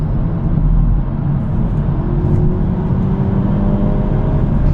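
A 2026 Hyundai Elantra N idles and revs, giving a loud, steady engine and exhaust drone heard close up from inside, with a gently rising tone and no clear separate pops.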